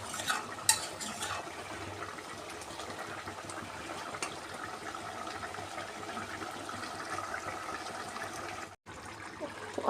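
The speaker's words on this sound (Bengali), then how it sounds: "এখন আমি এই কুকার থেকে শাকটাকে অন্য একটা হাঁড়িতে ট্রান্সফার করে নেব।" Cooked spinach is scooped out of a pressure cooker into another pot, with a continuous wet stirring and scraping, metal utensils clinking against the pots now and then, and a brief drop to silence near the end.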